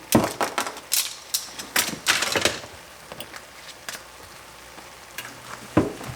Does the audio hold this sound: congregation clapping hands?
no